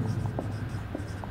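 Chalk or marker strokes on a classroom board during a biology lesson, a faint series of short scratchy taps and squeaks against a soft room hum.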